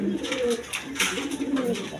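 Pigeons coo from a breeding pair in a loft, the female sitting on eggs, with soft, repeated throaty calls at close range over a faint background.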